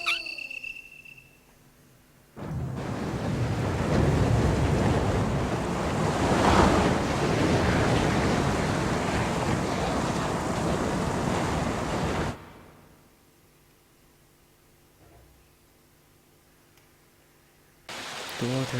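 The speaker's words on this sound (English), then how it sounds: "The water is running down the opposite side, I know." Running water in the 1996 PlayStation game Resident Evil makes a loud, steady rushing wash that lasts about ten seconds, then cuts off sharply into near quiet before a brief return of the noise at the end.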